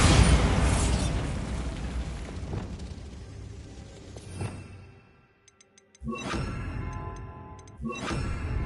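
A Bombarda spell blast inside a closed-off, tomb-like mine in Hogwarts Legacy, a loud rumbling explosion that decays over several seconds, a brief hush with faint ticks, then two more sharp bursts.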